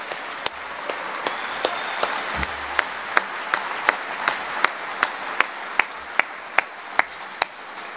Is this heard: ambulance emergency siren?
no